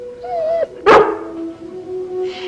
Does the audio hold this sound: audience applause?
no